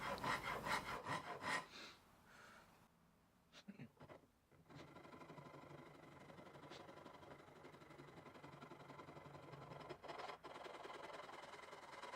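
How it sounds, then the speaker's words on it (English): A saw rasp evens out rough bandsaw marks on a walnut guitar neck, giving steady scraping, rubbing strokes that start louder and then settle into a quieter, continuous rasping. "I use a saw rasp to even out the rough surface of the bandsaw left behind"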